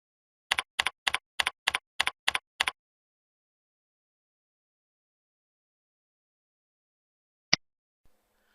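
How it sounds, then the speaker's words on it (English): An IP address is typed on a computer keyboard: eight quick, evenly spaced keystrokes, crisp and close, followed by a pause and one sharper lone key press. "type the appliance IP address in the browser address bar"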